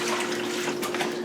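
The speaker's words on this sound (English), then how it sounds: "So I'm gonna put some water in here." Water streams steadily into a pot of uncooked sushi rice, a continuous close rushing splash with no talk.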